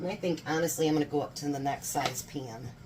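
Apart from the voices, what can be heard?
None of the usual background noises is heard.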